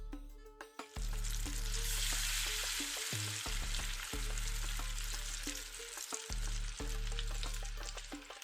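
Boiled lentils are tipped into caramelized onion frying in oil for a Syrian dish, giving a loud, steady close-up sizzle with a few stirring knocks and clatters, no voices.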